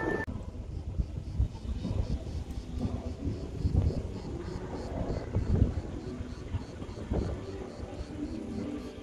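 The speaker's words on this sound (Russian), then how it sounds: "Здесь наверху ветрено" Wind gusting across an exposed viewing platform atop Mount Olymp above Gelendzhik Bay, a steady broadband rush with low rumbling buffets on the microphone, loud and continuous throughout.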